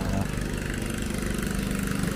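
A fishermen's boat engine idles with a steady, low mechanical drone at a river fish landing in the Mekong flood season, faint and continuous throughout.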